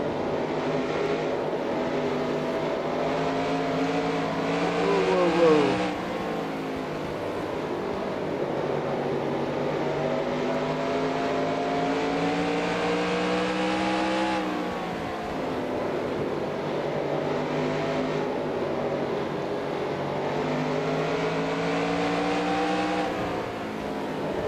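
NASCAR Winston Cup race cars at Bristol in the NASCAR Racing 2003 game, engines droning loudly and continuously with rising and falling pitch as cars shift and pass, a steady pack roar with no talk.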